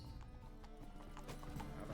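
Horse hooves clip-clop steadily in The Witcher 3, a close, even rhythm of strikes with a brief whinny-like tone over a constant low game ambience.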